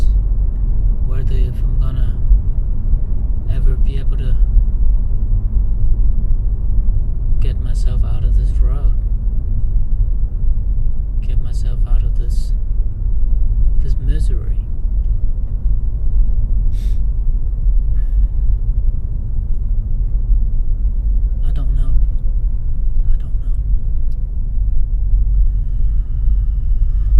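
Steady low road rumble of a car under way, continuous and fairly loud throughout, with a person talking intermittently over the engine and tyre noise.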